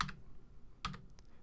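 A few quick keystrokes on a computer keyboard entering a colour code in a photo editor, two close, quiet clusters of clicks in a short, otherwise hushed moment.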